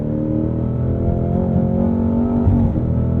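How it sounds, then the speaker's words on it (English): Cadillac CT5 Blackwing V8 with manual gearbox and rear drive, a loud continuous engine drone rising and dropping through downshifts, heard from inside the car. "How great that V8 sounds on the downshifts."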